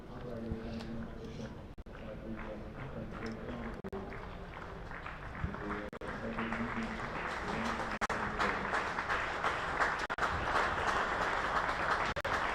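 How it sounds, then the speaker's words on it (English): Applause from a cricket crowd at a Kent versus Nottinghamshire match, greeting Kent and England batsman Zach Crawley coming in at lunch; distant, scattered clapping swells gradually beneath a commentator's voice over the broadcast. "that applause you can hear, Andy, is for Kent and England's Zach Crawley"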